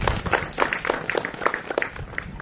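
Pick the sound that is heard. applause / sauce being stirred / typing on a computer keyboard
applause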